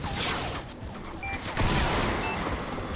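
Shotgun blasts in the video game Fortnite, heavy booming shots amid continuous loud game noise and action, near and dense.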